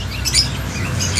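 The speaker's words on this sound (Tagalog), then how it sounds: "Tapos may mga ibon din sila rito. Mga African lovebirds." African lovebirds at a pet market chirping and squawking in short, shrill bursts over a busy background hum of the market, fairly close and brief.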